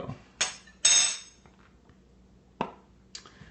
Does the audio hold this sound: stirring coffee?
yes